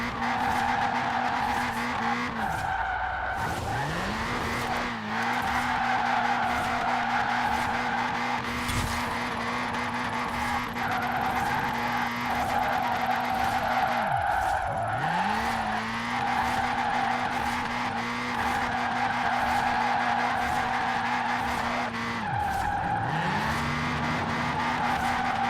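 Toyota Trueno AE86 drifting in Forza Horizon 4, with a steady engine drone and long sustained tire squeals that drop out briefly and resume several times, loud and continuous throughout.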